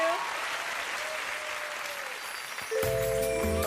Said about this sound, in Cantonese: 俾啲掌聲我哋1號嘅 Carmony